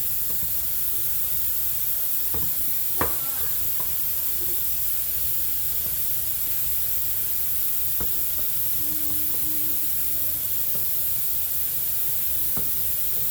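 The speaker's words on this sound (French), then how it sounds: "je les coupe comme ça et je vais les faire cuire à la poêle" Cut pieces of food fry in a pan with a steady hissing sizzle, broken by a few faint knocks and clicks.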